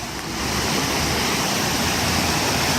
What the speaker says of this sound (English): These are just fun water fountains here when they're running.